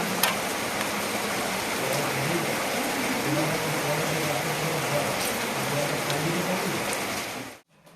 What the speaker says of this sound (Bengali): কতটা জোরে বৃষ্টি পড়ছে